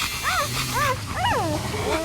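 Several newborn puppies whimper and squeal in thin rising-falling cries, a few short calls over a steady low background hum.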